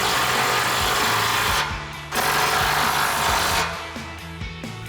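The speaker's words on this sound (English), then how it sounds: "we'll grab our 18mm socket, our impact, and tighten these down" A power tool whirs in steady bursts while tightening rear bumper bolts with an 18mm socket on a 2021-2025 Ford Bronco, loud and close, with brief pauses between runs and a quieter rattle toward the end.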